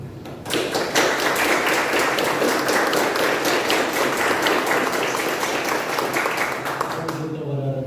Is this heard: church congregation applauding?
yes